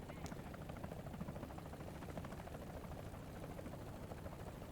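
French helicopter in the War Thunder video game, its rotor and engine making a steady, dense chopping drone heard at a fairly low level and continuously throughout.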